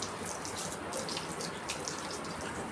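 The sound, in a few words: water running from a pipe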